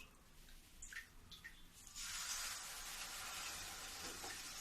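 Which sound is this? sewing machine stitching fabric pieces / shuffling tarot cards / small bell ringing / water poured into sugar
water poured into sugar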